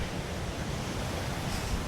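Sea waves wash steadily onto the North Norfolk coast at Overstrand, a broad continuous roar of surf close by, with wind noise on the microphone and no voices.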